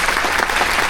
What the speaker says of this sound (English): A big round of applause for our Beirut veterans.